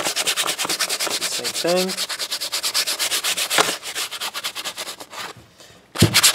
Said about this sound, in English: You gotta make sure you sand down these ends as well.